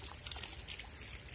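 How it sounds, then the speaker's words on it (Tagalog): Garden water flowing and trickling in a light, continuous burble, faint and close, lasting only a moment. "Tapos yung tubig na yon, ayan na siya. Agos siya dyan."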